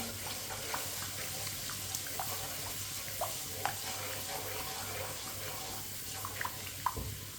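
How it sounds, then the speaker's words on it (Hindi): Water goes into a hot pan of spice masala for aloo methi, giving a continuous watery sizzle and bubbling with small scattered clinks, close and fairly quiet. "थोड़ा सा पानी डालेंगे। चूल्हे की आंच को थोड़ा सा तेज़ कर लेंगे, मीडियम कर लेंगे। अच्छी तरह मिक्स कर लेंगे मसालों को।"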